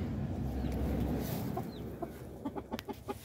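Chickens at night in a plastic shed during snowy weather, giving several soft, close clucks and short calls over a steady background hum, growing more frequent toward the end.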